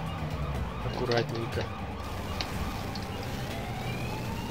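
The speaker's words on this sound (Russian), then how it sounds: "Поэтому мы включим сирену" Ambulance siren from a pixel-art racing video game, a wavering electronic wail over a busy game soundtrack, with someone talking over it near the start.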